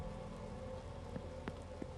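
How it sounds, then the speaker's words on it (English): Steady rain falls in a video game set at Blake Manor, a constant soft hiss with a low rumbling bed and a few faint drops and knocks standing out. "Why is everybody just standing out in the rain?"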